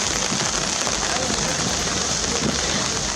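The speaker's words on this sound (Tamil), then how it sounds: "காற்றுடன் கூடிய மிதமான மழை" Moderate wind-driven rain pours over the Kodaikanal hills, a loud, dense, steady hiss of drops striking surfaces with no break from start to finish.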